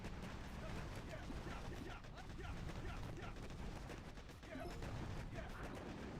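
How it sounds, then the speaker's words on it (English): Machine gun firing in Boom Beach Warships, a dense, continuous rattle of battle gunfire with scattered impacts, steady and moderately loud throughout. "That machine gun's annoying."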